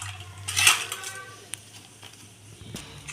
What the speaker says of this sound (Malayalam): അപ്പോൾ ചക്ക അമ്മ വെട്ടിയെടുക്കുകയാണ്